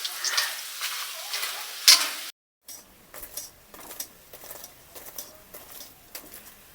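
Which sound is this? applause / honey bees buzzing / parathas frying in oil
parathas frying in oil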